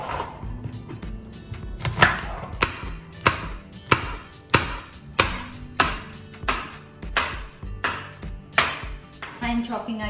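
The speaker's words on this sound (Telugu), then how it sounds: "బట్ ఫస్ట్ అయితే ఫైన్ చాప్ చేసుకుందాం" Green chillies being finely chopped with a knife on a board for homemade poha mixture, heard as a steady run of sharp, close knife strikes at an even rhythm, quickening at the end, with no talk.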